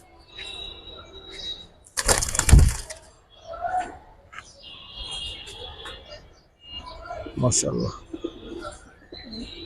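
Fancy pigeons for sale coo softly nearby in repeated low calls while people talk, with a sudden loud crackling rustle partway through.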